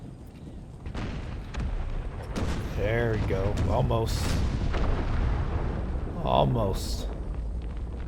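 Cannon fire from an 18th-century colonial army in the strategy game Empire: Total War, booming repeatedly over a dense battle din while someone talks briefly over it.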